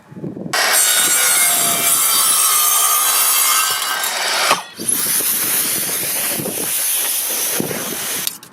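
A saw cuts through a wooden board at the 15 cm mark, a loud, steady rasping burr that runs for about four seconds, breaks off briefly, then resumes to the end with no talking.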